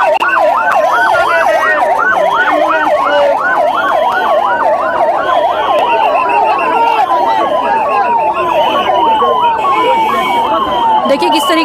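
Ambulance sirens wail in border villages between India and Pakistan, a loud rapid up-and-down yelp repeating steadily, close by, with traffic rumble and voices underneath.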